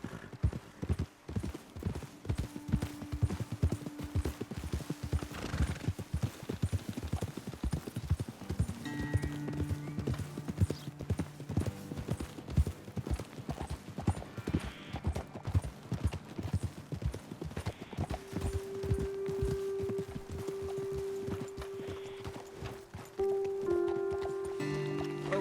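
Horses' hooves clip-clop steadily in Red Dead Redemption 2, a rapid continuous rhythm of close hoof beats over uneven ground, with a brief whinny and faint tonal game sounds later.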